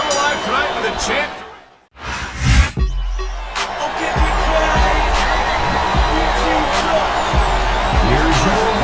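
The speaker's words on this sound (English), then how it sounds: "crowd has come alive tonight with a chant" Arena crowd chanting in the wrestling video game WWE SmackDown vs Raw 2007, a dense roar of cheering and chant that drops out briefly near the start, then swells and holds loud and steady.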